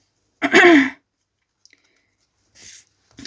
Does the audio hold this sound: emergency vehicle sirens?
no